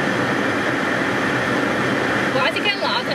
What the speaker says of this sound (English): I need to put the aircon on.